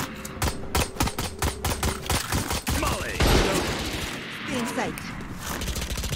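Video game gunfire rattles in rapid bursts of sharp shots, then a louder blast and scattered later fire, with a player's voice talking over parts of the action.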